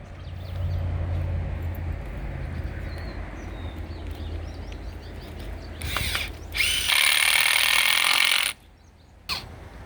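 A power drill drives fasteners into the wood of a raised garden bed at an outdoor school garden, heard as a short whirring burst then a longer loud grinding run, over steady outdoor background noise.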